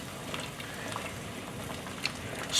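Water boils in a pot of string beans, a soft steady bubbling hiss with a few small pops, faint and close, with no talking.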